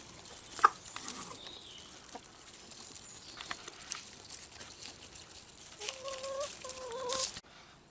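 Farmyard chickens clucking and calling, faint and intermittent, with a few louder squawks and birdlike calls against a quiet outdoor background.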